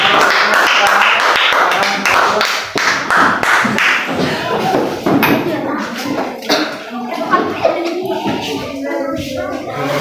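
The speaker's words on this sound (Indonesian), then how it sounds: "Iya, anak-anak ya, tepuk tangannya." Children in a classroom clap their hands together in quick sharp bursts at first, then the clapping thins into scattered taps and thumps with kids' voices in the room.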